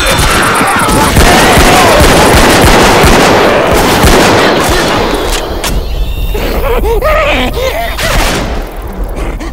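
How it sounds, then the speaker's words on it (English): A heavy exchange of gunfire in a video game shooter, with dense, overlapping shots and crashing impacts at close range that thin out midway into scattered bursts, with some voices faintly underneath. "Stop shooting me."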